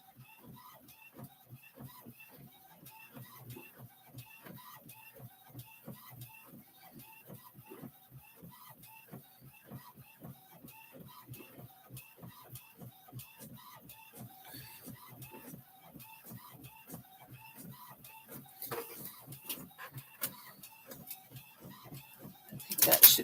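Printer feeding cardstock through a copy job, a quiet steady rapid mechanical ticking and shuffling that runs throughout, swelling louder with a clunk at the end.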